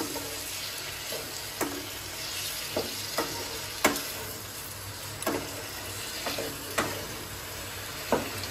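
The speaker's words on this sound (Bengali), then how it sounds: "টক দইটা দিয়ে একটু ভালো করে আবার কষিয়ে নিচ্ছি" Cauliflower and potato masala sautéing with sour yogurt in a pan, a constant moderate sizzle punctuated by regular sharp taps of a spatula against the metal, every second or so.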